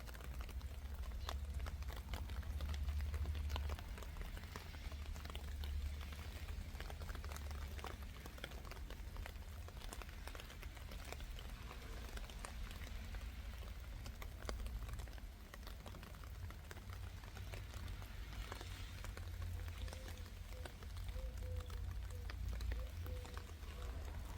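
Steady rain patters on a rose garden, a soft even hiss with scattered drips, fairly faint and continuous with no talking.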